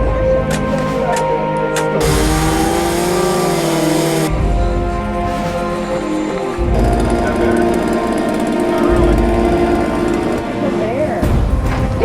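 A chainsaw cutting into a tree stump, loud continuous engine drone with its pitch shifting up and down as it bites and eases off, running alone without talk.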